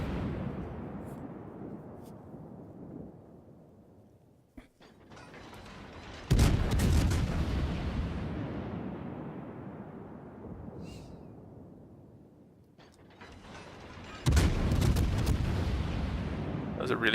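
A Kutuzov cruiser in a naval video game fires high-explosive salvos: deep booming broadband blasts, one near the start and two louder ones later, each trailing off into a long rumbling decay.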